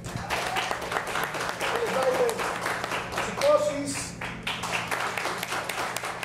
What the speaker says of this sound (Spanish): un aplauso para Black Histeria